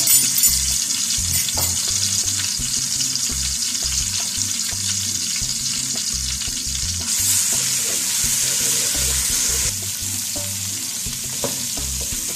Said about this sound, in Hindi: ये हमने इसमें जिंजर और गार्लिक पेस्ट डाल दी, इसको 1 मिनट के लिए पकने दिया।